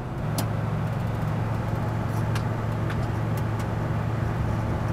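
A 1956 Pontiac Chieftain's engine runs steadily from inside the car, a low, even drone with faint wind noise from an open vent and no talking.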